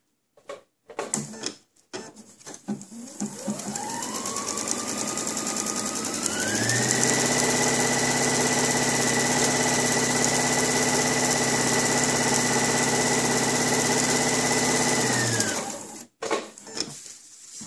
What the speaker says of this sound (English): So first we do the straight stitch.